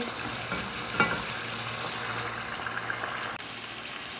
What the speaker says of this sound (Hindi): 4 से 5 मिनट तक हम तमाम चीज़ों को अच्छे से फ्राई कर लेंगे।